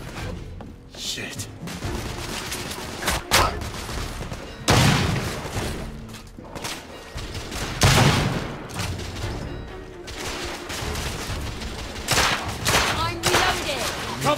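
Gunfire in The Order: 1886, a shooter video game: dense bursts of rapid shots and heavy booming blasts keep coming across the whole stretch over a steady background din, with someone speaking now and then.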